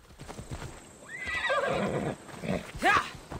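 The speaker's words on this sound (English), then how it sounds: "Let's go, horse." A horse whinnies loudly in the game Assassin's Creed Odyssey, a descending neigh followed by a second sharp whinny near the end, with hoof clip-clops underneath.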